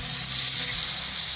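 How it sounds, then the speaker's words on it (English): Salt-and-peppered organic chops hiss and sizzle steadily in a hot pan, a dense, close, continuous frying crackle with no voices. "Nice little sizzle."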